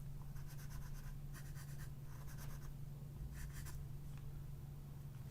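A cutting tool gouges pieces out of a linocut block, making bursts of dry scraping strokes in an irregular rhythm, close and fairly quiet over a steady low hum.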